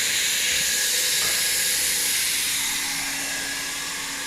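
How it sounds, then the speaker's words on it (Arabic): A hot-air welding gun heats and seams vinyl flooring, giving a loud, steady close-up hiss of blowing air that holds constant and slowly fades slightly, with a low machine hum beneath. "طبعا عملية التسخين، لحام التسخين."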